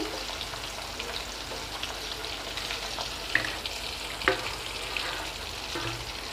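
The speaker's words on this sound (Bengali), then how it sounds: "মাছগুলোকে ভেজে নিচ্ছি" Prawns fry all at once in hot oil for a Bengali prawn malaikari, giving a steady broadband sizzle throughout with two brief sharper pops and spatters, close and unaccompanied by speech.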